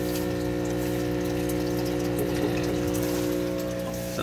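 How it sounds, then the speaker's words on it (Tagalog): Filtration pump on a planted monster aquarium tank running steadily, with a close, constant hum and gushing flow of water, unbroken and with no talk. "Ayun, ito yung pump natin"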